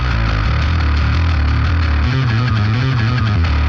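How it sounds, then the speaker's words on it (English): A bass guitar sits inside a loud, distorted rock mix, its low notes thick and continuous under the full band and growing more prominent over the last half. "All right, what about bass guitar?"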